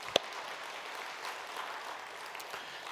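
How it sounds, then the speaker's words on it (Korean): A church congregation applauds during a Korean worship service for the harvest feast, a faint, steady patter of many hands heard from a distance. "우리 하나님께 감사의 박수 드리겠습니다."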